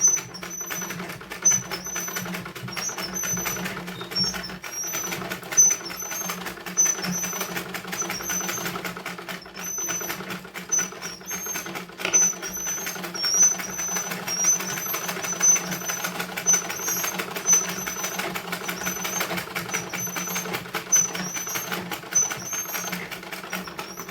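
A sewing machine stitches a blouse with a fast, even mechanical chatter that runs almost without pause, moderately loud and close.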